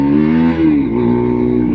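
A Husqvarna 401 Svartpilen motorcycle revs up close, its engine note rising, dipping briefly and then climbing again, loud and steady with no talking.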